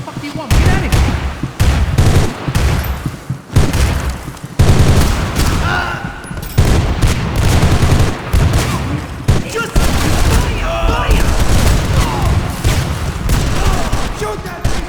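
A heavy shootout in Max Payne 3 rattles with dense bursts of gunshots and booming impacts, loud and close, while shouting voices break through the firing.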